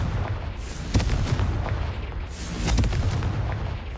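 Confringo fire spell explosions from the video game Hogwarts Legacy, heavy booming blasts landing in quick succession over a loud rumbling roar that keeps going between hits, with no voices over it.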